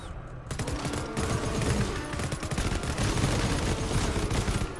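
Sustained rapid automatic gunfire in the video game R5D1, a dense continuous stream of shots running nearly the whole time at steady loudness, with no pause between bursts.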